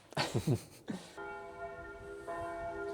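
Church bells of Sauternes, France ring steadily in the distance after a brief opening burst of sound, their sustained tones hanging in the air.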